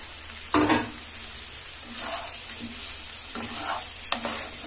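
Nutrela soya chunk keema frying in a pan as it is stirred, a steady sizzle under repeated scraping strokes of a spatula, close and clear, with no speech.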